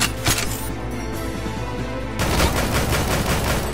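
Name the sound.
gunfire in the video game Dead or School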